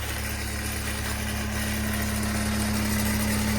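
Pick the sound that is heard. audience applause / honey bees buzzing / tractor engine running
tractor engine running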